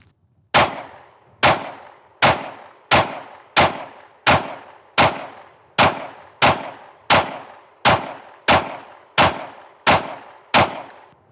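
A Glock 48 pistol fires 15 rounds from a Shield Arms S15 magazine, sharp loud cracks evenly spaced about two thirds of a second apart, each with a short ringing tail, outdoors and with no talk.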